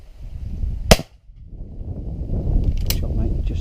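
A single sharp shotgun blast rings out while shooting pigeons over a crimped flat barley field, followed by rustling outdoor background and a second fainter click-like report near the end.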